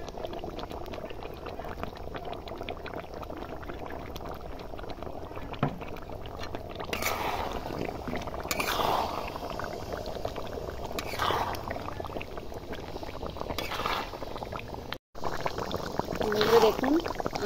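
Mango pieces with sugar simmer for a sweet-sour-spicy pickle, making a faint, steady bubbling boil that runs throughout, with a few soft stirring bursts, close and low in level.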